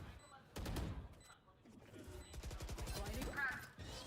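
Rapid bursts of Valorant gunfire ring out in a competitive pro match, sustained volleys of automatic shots that are loud and dense, heard under excited caster commentary.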